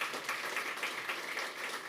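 Soft, steady clapping from an audience thanking chess show commentators, moderately distant and unbroken, with no voices over it.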